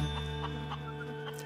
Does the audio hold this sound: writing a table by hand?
no